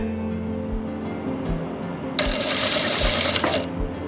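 A sewing machine stitches the armhole seam of a kurti. A quiet mechanical hum and soft thumps build into a loud, steady whirring run of stitching lasting over a second, then the machine stops.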